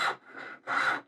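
A hand saw cuts the shoulders of a wooden inlaid dovetail joint in two close, rasping strokes, a push and a return, with a short gap between them.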